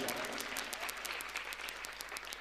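An audience at a Hindi poetry gathering claps in a dense, continuous burst of applause, fairly distant and soft, with sharp individual hand claps standing out through the steady patter.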